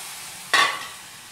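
Tamarind juice poured and stirred into a hot pan for spinach-tomato dal gives a sudden, brief hiss that flares up and fades within a second over quiet kitchen background.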